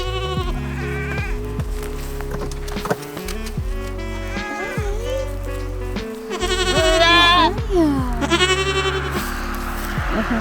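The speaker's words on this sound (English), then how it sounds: "The thing about the goats is they're really loud." Goats on a homestead bleat loudly and repeatedly close by, with several overlapping calls and a longer, louder burst of bleating midway.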